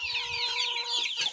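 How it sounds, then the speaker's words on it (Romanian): Broody hen, cream and white, sitting on eggs, clucking softly and continuously at close range, with other chickens chattering in the background and no talk. "Acolo am o cloșcă alb cu crem pe ouă de pe ouăle de găină frezată."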